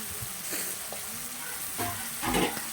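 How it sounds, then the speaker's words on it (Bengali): Potatoes frying in oil for vegetarian aloo dum, a soft continuous sizzle with occasional stirring scrapes, close and moderately quiet. "তো ভালো করে ভাজতে হবে, অলরেডি একটু কষাই করতে হবে।"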